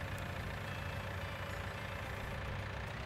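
A tractor engine in Farming Simulator 19 drones at a steady idle, a continuous low rumble with a faint mechanical whine above it, unbroken throughout and with no voices.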